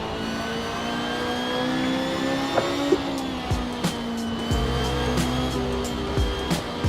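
A BMW M3 GT2 race car in Assetto Corsa, lapping the Nordschleife, drones loud and close, then drops through downshifts with sharp revving blips and brief tire squeal, with no talk over it.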